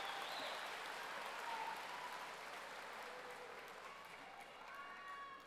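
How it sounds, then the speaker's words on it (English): Audience applause for a former graduate at a 2023 Freedom High School graduation ceremony, a soft, distant wash of many hands clapping in a large space, steady, then slowly tapering toward the end. "give him a round of applause"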